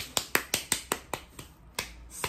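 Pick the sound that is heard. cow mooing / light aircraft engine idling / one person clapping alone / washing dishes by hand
one person clapping alone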